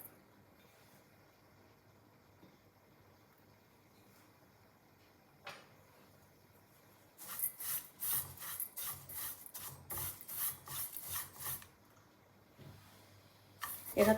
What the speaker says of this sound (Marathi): आता आपण खोबरं भाजून घेऊयात.